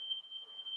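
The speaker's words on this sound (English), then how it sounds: "Just my fire alarm going off." A home fire alarm sounds a steady, piercing high-pitched tone without a break, fairly loud and close, with faint room noise underneath.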